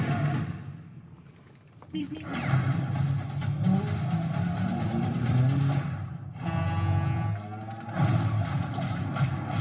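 An ACME-branded truck engine revs and roars in a Coyote vs. ACME movie trailer, with surging acceleration swells over a busy soundtrack and intermittent voices.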